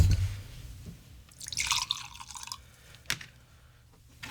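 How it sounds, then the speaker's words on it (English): Whiskey and Averna are poured into a glass for an Italian toddy, giving a short trickling splash followed by a faint clink, close and quiet with no talking. "we're going to pour in here some whiskey and Averna"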